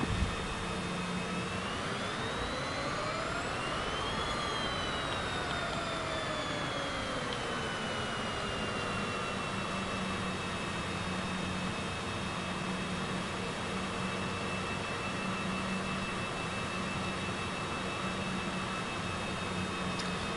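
Cessna aircraft engine during takeoff in Microsoft Flight Simulator 2024, a steady droning propeller engine with a rising whine as power increases, then a constant hum that holds throughout, alone without talk.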